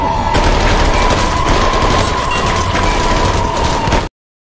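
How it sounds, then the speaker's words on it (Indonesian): Staff shoot the players who failed the game in a film scene: loud, dense, continuous gunfire with overlapping bursts and booms that fills about four seconds, then cuts abruptly to silence. "para staf pun menembak mati seluruh pemain yang gagal menyelesaikan permainan tersebut"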